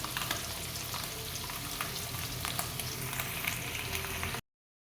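Paneer cubes frying in oil in a home kitchen pan, giving a steady, close crackling sizzle that runs unbroken for about four and a half seconds before cutting off.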